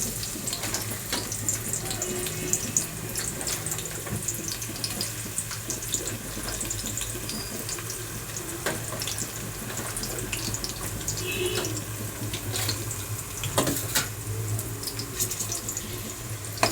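Chopped onions and green chillies sizzle steadily in hot oil for a chicken curry, a continuous close frying hiss with scattered crackles and pops and no talking.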